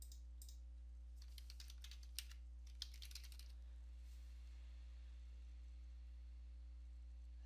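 Typing on a computer keyboard to search the Windows 10 Start menu, a short run of faint, close key taps over a steady low electrical hum, then only the hum.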